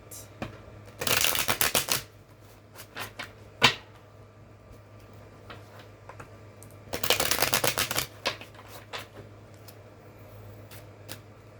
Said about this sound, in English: And then I will pull some other oracle cards